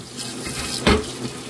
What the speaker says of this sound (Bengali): যে জলগুলো আছে শাকে ওটা নিচ দিয়ে পড়ে যাচ্ছে